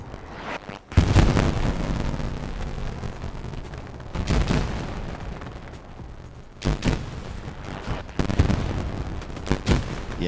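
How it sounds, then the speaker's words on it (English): Battlefield explosions in the World War II shooter Hell Let Loose, several heavy booming blasts a few seconds apart with rumbling decays, loud and close, without talk. "Yeah, it's all the damn explosions."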